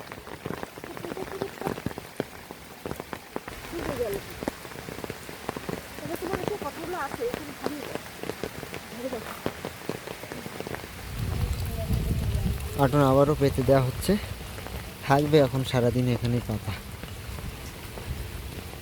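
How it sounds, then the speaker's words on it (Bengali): Steady rain falls on flooded fields and ponds during an all-day downpour, with a continuous soft patter. Nearby voices talk over it, and several calls sound in the latter half. "বৃষ্টি কিন্তু সারাদিন একটুও কমেনি আর পরিষ্কারও হয়নি একটু"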